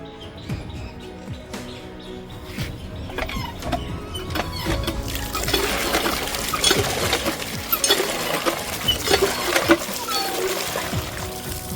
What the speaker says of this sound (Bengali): রানীকে এবার ধোয়া, মোছা, পরিষ্কার করা সব কিছু হবে।